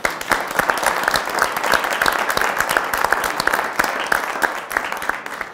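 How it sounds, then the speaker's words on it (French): Audience applause at the close of a televised French panel event, a dense burst of many hands clapping steadily for several seconds with no talking over it. "bravo, on vous applaudit."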